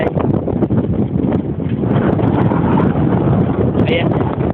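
Strong wind buffets the microphone while cycling along a road past company buildings, a constant loud rushing roar that fills the whole stretch, with faint voices underneath.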